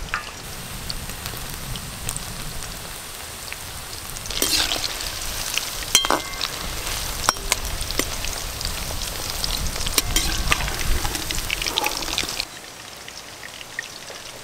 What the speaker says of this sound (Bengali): আমি লাল লাল করে চিকেন পকোড়াগুলো ভাজবো।